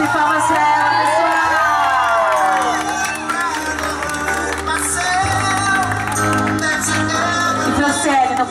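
A crowd at a birthday celebration cheers and whoops over loud music, with shouting voices and scattered clapping mixed in throughout.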